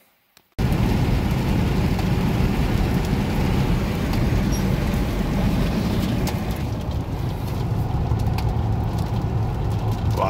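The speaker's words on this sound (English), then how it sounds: "Why's it always gotta be raining when I'm test driving?" Steady road noise and engine rumble fill the cabin of a moving Chevrolet S10 pickup with an LS engine swap, with a faint hiss of rain and wet tires throughout.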